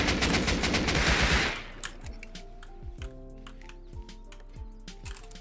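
Rust game gunfire: a dense, loud burst of rapid automatic shots for about a second and a half, then scattered single and paired distant gunshots spaced irregularly through the rest.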